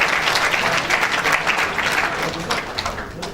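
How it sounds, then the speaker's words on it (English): An audience at an institute's annual function applauds medical students for their top university rankings: dense, steady clapping from many hands, fairly close and even throughout, with no voices over it. "Big round of applause for our medical students"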